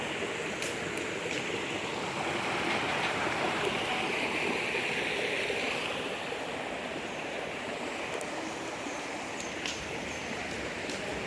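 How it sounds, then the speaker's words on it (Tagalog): Strong current of a mountain spring-fed stream on Panandayan Island, a steady, loud broadband rush of flowing water that holds constant throughout, with no voices. "lakas ng agos na wow"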